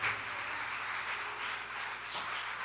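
Church congregation applauding Jesus during a sermon, a sustained wash of many hands clapping at moderate distance, steady throughout with slight swells.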